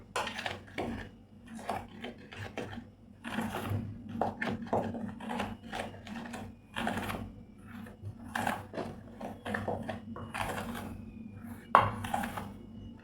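Bombay mixture ingredients with a little ghee tossed and mixed in a bowl, giving steady clinking and scraping of utensil against the bowl with brief scattered knocks, close and moderately loud, no talking.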